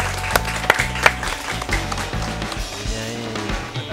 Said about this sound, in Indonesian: Ini tepuk tangan dong. Tepuk tangan dong.